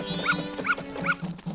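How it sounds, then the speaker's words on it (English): Small puppy barking in the video game The Legend of Zelda: Majora's Mask, three short high yips evenly spaced over a steady background music bed. "There's a puppy."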